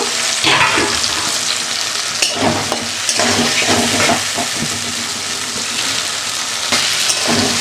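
Green peas and spices sautéing together in a pan for an aloo matar paneer curry, a steady loud sizzle with scraping stir strokes throughout.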